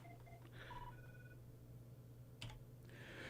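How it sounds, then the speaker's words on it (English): A telephone rings faintly in a comedy radio show studio, a few short electronic trill bursts against a low hum, followed by a soft click. "And the phone is ringing already."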